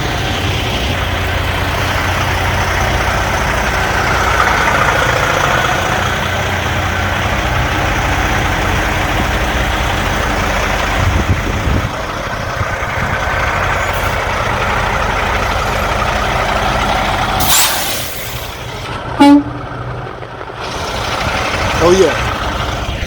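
A semi truck idles steadily as it backs into a parking lot, a low continuous engine rumble running throughout, with a brief hiss like an air brake near the end and people talking over it.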